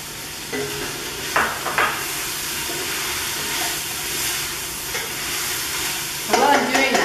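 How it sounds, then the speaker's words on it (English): Garlic sautéing in a pan for a curried green lentil and carrot stew, a continuous bright sizzle with occasional stirring scrapes and knocks, close and without speech. "I'm just going to put the garlic in now and saute it for about a minute."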